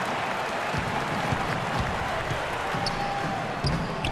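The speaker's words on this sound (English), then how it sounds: "Just a little bit more for these fans to cheer about as they get ready to celebrate the win" A basketball crowd at a Minnesota Timberwolves vs Los Angeles Lakers game, a steady roar of fans cheering and clapping with a commentator talking over it.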